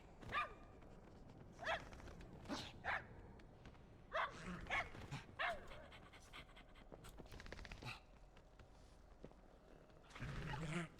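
An in-game dog in World of Warcraft, around the Midnight expansion's Woolhaven area, pants in repeated short breathy bursts at moderate distance, with occasional faint snuffling between them.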